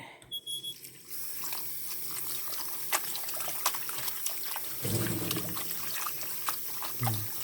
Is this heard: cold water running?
yes